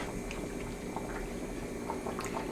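Steak and gravy simmer under a lid in a pot on the stovetop over low heat, giving a faint, steady bubbling and soft popping that carries on without pause.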